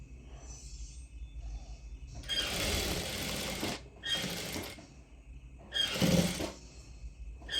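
A sewing machine top stitching a lining in three close, loud bursts of rapid mechanical whirring, separated by short pauses with faint handling noise.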